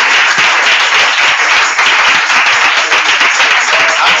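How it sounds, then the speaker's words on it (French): Congregation applauding loudly at a church worship service in Abobo, dense sustained clapping throughout with faint voices mixed in. "Acclame le Seigneur Jésus"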